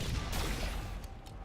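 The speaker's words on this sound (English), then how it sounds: "the explosion, the sparks" Sustained explosion and rapid gunfire in the Halo video game, a loud, dense burst of crackling blasts that roars steadily throughout with no voices over it.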